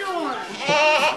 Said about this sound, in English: let the Billy Goat charge Jimmy